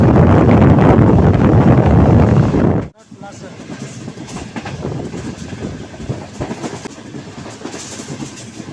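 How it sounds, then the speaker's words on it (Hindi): The Awam Express, hauled by an HGMU-30 locomotive, runs at full speed through Dhabeji railway station: a loud close roar cuts off abruptly after about three seconds into a softer, steady rumble and clatter of wheels. "अवाम एक्सप्रेस भरपूर स्पीड में धावजी रेलवे स्टेशन को थ्रू पास करेगी।"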